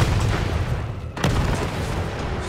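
Rocket launcher explosion in Resident Evil 3, a sharp boom cutting through ongoing low rumbling game noise, with the rumble continuing afterward.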